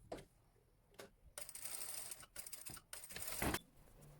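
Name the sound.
sewing machine stitching waistband ties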